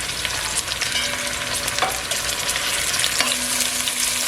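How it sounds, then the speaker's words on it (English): Garlic and pimento peppers frying in a hot pot, a steady dense sizzle with crackling pops throughout, close and continuous with no talking. "You let that fry until it gets golden brown."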